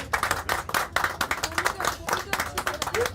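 An audience claps at a televised Hindi election-discussion event, sharp close hand claps in a fast uneven burst, with voices murmuring underneath.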